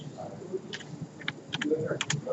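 Keystrokes on a computer keyboard while entering a value into AutoCAD, a few soft separate clicks spread irregularly over a quiet room background.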